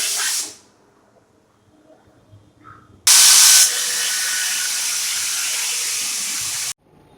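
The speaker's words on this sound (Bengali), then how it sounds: "খাবার সোঁটা দিয়ে প্রেসারে সিটি খাইয়ে নেবেন।" A pressure cooker cooking rajma (kidney beans) lets out a loud, steady hiss of escaping steam that starts abruptly and lasts about three and a half seconds, after a brief softer burst at the start.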